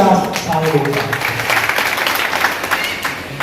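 Audience at a BJP assembly-constituency conference in Kathua, Jammu, claps in a loud sustained burst while a voice carries on over the applause.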